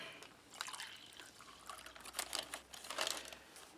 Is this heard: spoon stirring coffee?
yes